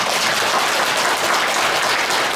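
Audience at a Buddhist temple dharma service clapping, a dense, even burst of applause from many hands, loud and continuous throughout with no voices.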